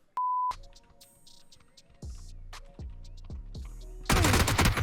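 A G36 rifle in a video game fires single shots, one crack roughly every half second, after a short electronic beep; the shots are close and fairly loud, and a dense burst of noise ends the sequence.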